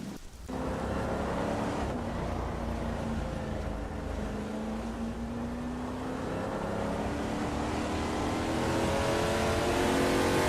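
Several 2015 Onroc Ligier JSP3 race car engines drone steadily in a racing video game, rising pitch lines showing multiple cars accelerating at a sustained, loud level for the whole stretch with no talk.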